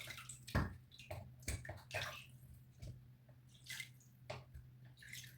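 Water splashes and drips while fish is washed for a fish pie, irregular wet bursts and trickles, close and fairly quiet.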